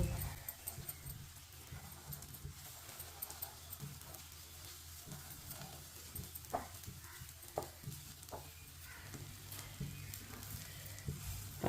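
Bread slices sizzle softly in a pan over a lowered flame for a sandwich, a steady faint crackle with occasional sharper pops and light clinks, no voices.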